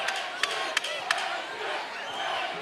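Crowd at a charity amateur boxing event, a continuous roar of cheering and shouts with a few sharp claps or thuds near the start.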